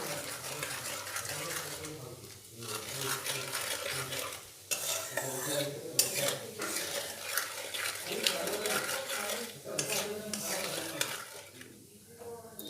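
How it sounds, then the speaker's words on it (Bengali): Cumin and dried red chilies with a pinch of sugar are stirred in hot oil in a pan for a Bengali mutton curry, giving a steady sizzle with continuous scraping and stirring throughout, close and fairly loud. "কিছুক্ষণ নাড়াচাড়া করে নিয়েছি ফোড়নটা।"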